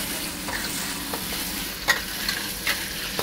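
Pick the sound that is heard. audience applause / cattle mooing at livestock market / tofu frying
tofu frying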